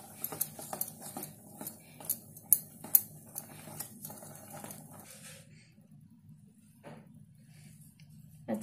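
Eggless, sugar-free wheat-flour cake batter being mixed in a bowl with a spoon, giving a run of quick rhythmic taps and clinks against the bowl that stops about midway, leaving near silence with a faint knock.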